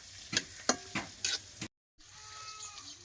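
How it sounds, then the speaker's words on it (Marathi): Whole spices roasting in a pan for village-style masale bhat: several sharp stirring scrapes over a sizzle, a brief silent gap, then steady frying continues. "खडा मसाला टाका आता सगळे मसाले भाजून घ्यायचे"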